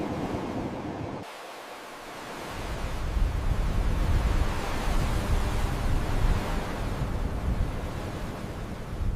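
Sea waves wash onto a Sri Lankan beach, a soft, broad rush that dips briefly and then swells back, fairly faint and steady.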